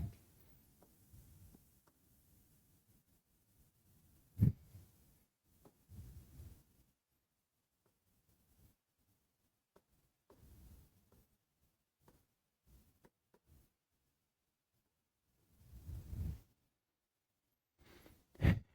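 Pen or chalk taps and scratches during a math lesson come as sparse, faint strokes and clicks spread across long quiet stretches, with a few louder knocks.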